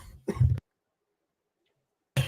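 A person coughs and clears their throat in a short, rough burst, then falls silent for well over a second before another brief cough-like burst begins at the end.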